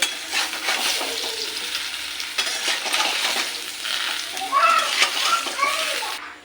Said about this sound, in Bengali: হলুদ তিন চার মিনিটের মতো ভালো করে ভেজে নেব বেশি ভাজবো না